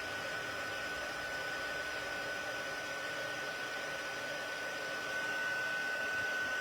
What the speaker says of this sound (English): you're going to take your heat gun again, and you're going to emboss.